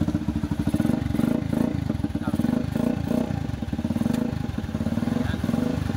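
A Rusi 150 motorcycle engine runs steadily after starting, with a close, rhythmic mid-pitched putter and some mechanical clatter, continuous throughout.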